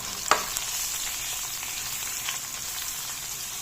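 Browned onion with garlic and green chilies fries in a pan for a fish curry with winter bean seeds, giving a constant close sizzle with a sharp stir or clink early on and faint crackles, no talking.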